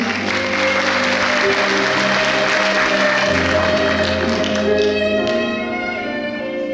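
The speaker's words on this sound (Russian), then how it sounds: "сегодня она хочет сказать слова благодарности под ваши бурные аплодисменты" Loud, steady audience applause welcoming a speaker to the stage at a televised event, continuous clapping with music or a tonal hum underneath throughout and easing slightly toward the end.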